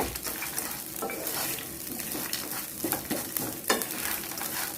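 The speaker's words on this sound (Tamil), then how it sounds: "லைட்டாக மட்டும் வறுத்துக்கோங்க." Grated coconut being lightly roasted in a pan for peanut chutney: continuous soft sizzling with repeated scraping and stirring strokes of a spoon against the pan, close and steady, no voices.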